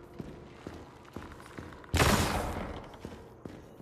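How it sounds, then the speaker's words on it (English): Gunfire in the VR shooter After the Fall: single gunshots crack at intervals, then a loud burst of rapid fire erupts and fades, followed by more scattered shots. "Stop shooting each other."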